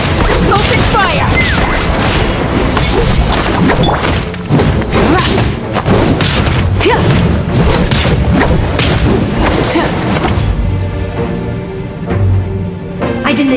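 Attack firing blasts in Genshin Impact, mobile gameplay, come as a dense run of loud booming thuds and whooshing impacts over layered game sound, with voices talking on top before it thins out near the end.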